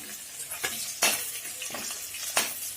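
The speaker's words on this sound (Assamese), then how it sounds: "এইদৰে ভাজি ল'ম" Crushed garlic and onion fry in oil over a medium flame with a soft, steady sizzle, broken by a few sharp scrapes and clinks of a spoon stirring in the pan.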